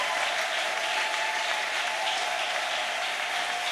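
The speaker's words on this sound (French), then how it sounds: "Est-ce que nous pouvons acclamer très très fort?" A church congregation applauds loudly at a Sunday service, steady dense clapping filling the room without pause, with no voices rising above it.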